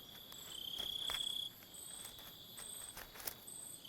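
A mountain-spotted grasshopper chirps in a high-altitude Australian setting, faint repeated short buzzing pulses over a steady insect hum.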